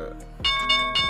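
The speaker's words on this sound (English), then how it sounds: "there's the bell" Bell chiming three times in quick succession, each strike ringing out with a bright tone, loud and close, with a voice speaking in the background.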